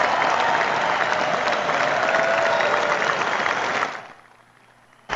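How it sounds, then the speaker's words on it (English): Applause for Ohio State quarterback Joe Burrow, sustained and dense with a faint crowd murmur, holding steady for about four seconds before cutting off abruptly into near quiet. "Big round of applause for Joe."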